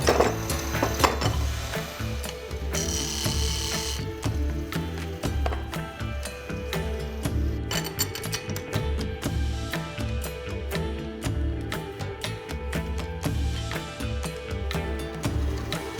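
A wood lathe spins a wooden flask blank while a tool cuts a small tenon, giving a continuous rattling, chattering scrape with a low mechanical hum, loud and close throughout.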